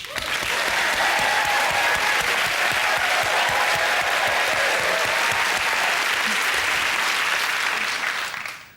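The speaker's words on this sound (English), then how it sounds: "Let's clap" A television studio audience on a British comedy pop quiz show breaks into sustained, loud applause, a thick even wash of clapping that holds for several seconds before tapering off at the end.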